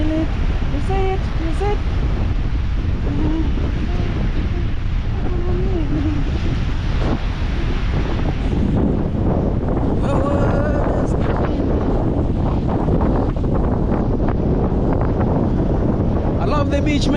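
Strong wind buffets the microphone over rolling surf at Diani beach, a loud, continuous roar of wind and breaking waves that holds steady throughout, with no speech.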